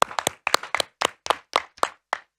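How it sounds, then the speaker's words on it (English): A small audience claps for Dr. Ma at a sustainable city financing event, about a dozen distinct, loosely spaced hand claps in a sparse, uneven rhythm that stops abruptly. "Let's give a round of applause to Dr."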